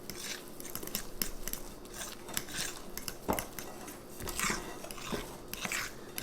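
Keto lemon muffin batter being stirred in a bowl with a utensil, producing close, repeated scraping and soft clinking strokes in an uneven rhythm, with no talking.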